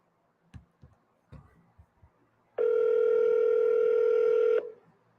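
A telephone places a call back, with a few faint clicks and taps before a steady, loud two-second tone that cuts off abruptly.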